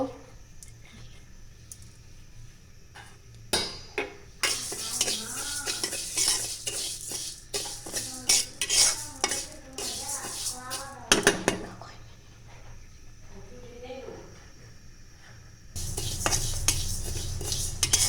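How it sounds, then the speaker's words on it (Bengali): Mung dal dry-roasts in a pan on a stove as a metal spatula repeatedly scrapes and clatters against it, close and rhythmic, with someone talking over parts of the stirring. "একটু লাল লাল করে ভেজে নেব"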